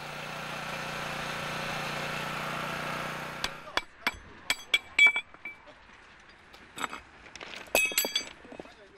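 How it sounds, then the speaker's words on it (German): Metal clinks and sharp taps from workers unscrewing railway track screws one by one on a Deutsche Bahn track-renewal train, a steady broadband rumble first, then scattered near clanks and ringing hits in irregular succession. "Jede Schraube muss einzeln herausgedreht werden."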